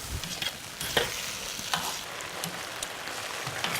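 Mushrooms with fresh green and red chilies and sesame oil are stir-fried in a Sichuan-style dish, with a constant close sizzle broken by repeated scraping and tossing clacks from the utensil.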